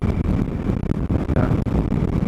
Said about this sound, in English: Yeah, it's freaking windy.